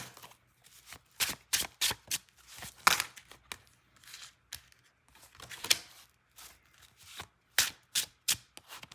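Tarot cards being shuffled in quick bursts of crisp riffling and slapping, each flurry separated by short pauses, close and fairly quiet with no talking.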